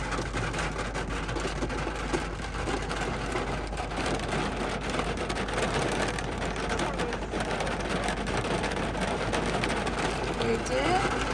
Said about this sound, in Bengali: এখানে কি জোরে জোরে বৃষ্টির ফোঁটা পড়তেছে